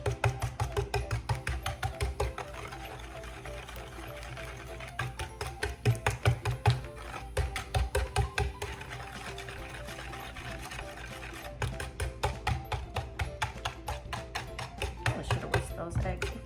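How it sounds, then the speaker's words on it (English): Eggs being whisked in a bowl for overnight French toast, a fast steady tapping and scraping rhythm that runs through most of the clip with brief pauses, close and fairly loud, under occasional talk. "you're just gonna mix that together really good. Make sure you get all your eggs broke up"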